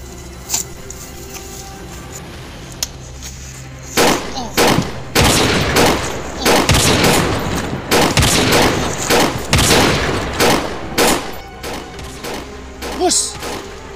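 Gunfire in a Filipino TV action drama shootout: sharp, loud volleys of shots and thuds burst in rapid clusters after a quieter opening, continuing densely to the end.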